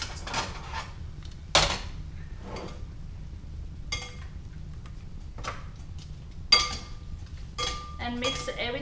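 Glass noodle salad and shrimp tossed in a mixing bowl, scattered clinks and sharp knocks of a utensil against the bowl at irregular intervals, close but fairly quiet, with soft rustling in between.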